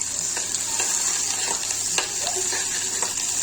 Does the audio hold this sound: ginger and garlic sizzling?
yes